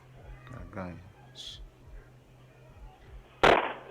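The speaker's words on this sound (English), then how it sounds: "the loud bangs of the attempted burglar's foot hitting the door" Doorbell camera capture of an attempted burglar's foot kicking a door: one sharp, loud bang near the end, after quieter muffled voices and small noises.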